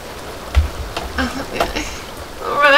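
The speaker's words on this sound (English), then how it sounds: "Oh, why is it, like, raining again?" Rain falling in The Sims Castaway Stories game, a steady patter of drops with a few louder splashes, building slightly toward the end.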